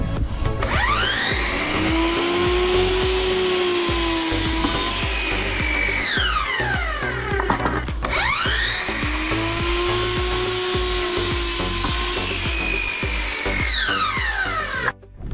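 A power saw cuts 3 inches off a board for a Corvette car-lift bunk bed frame. The motor whines up and then winds down in two separate cutting passes, loud and close.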